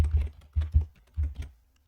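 Fingers tapping keys on a computer keyboard while entering a terminal command, about five or six close, crisp clicks in an uneven rhythm, then quiet.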